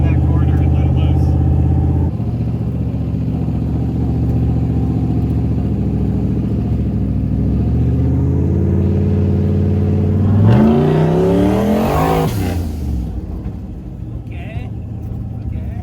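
Toyota/Subaru sports car at Blue Ridge Motorsports Park Octobercross, engine droning steadily from inside the cabin, then revving sharply upward around the eleven-second mark before easing off, with brief talk from occupants.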